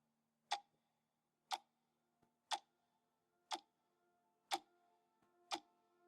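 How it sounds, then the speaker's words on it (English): Pendulum clocks tick in a slow, even rhythm of about one sharp tick per second, six crisp ticks in a quiet room with faint softer clicks between. "Two pendulum clocks, despite different starting positions, synchronized their swings."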